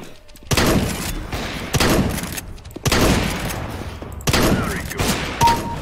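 Loud bursts of CS:GO gunfire come in four or five sustained volleys with brief gaps between them, close and heavy, with a faint tone and small effects in the quieter moments.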